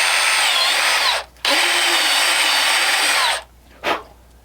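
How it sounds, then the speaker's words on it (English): An electric drill whirring at high speed in two long bursts, drilling holes in a craft ornament, close and loud, followed by a short quick spin. "You could drill out the holes for the eyes and the mouth."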